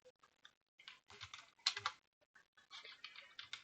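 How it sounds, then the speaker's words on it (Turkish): Short bursts of keystrokes on a computer keyboard as a command is typed into a command prompt: quiet, close clicking in uneven clusters with brief pauses between them. "Burada flutter yazıp enter'a tıklayalım."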